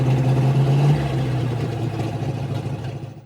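A carbureted car engine, freshly unstuck valve and treated with Marvel Mystery Oil, runs at a steady idle nearby with a low droning hum that eases slightly in level, brief and without talk.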